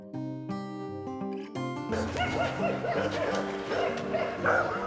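A short melodic music phrase gives way to a pack of hunting dogs baying and barking together on a driven hunt for roe deer and red deer, continuous and excited at moderate distance.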